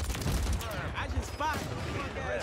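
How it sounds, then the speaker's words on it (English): Gunfire in the battle royale shooter Warzone 3, with scattered shots and battle noise under a voice talking throughout, intermittent rather than one steady burst. "Oh, I'm getting shot at."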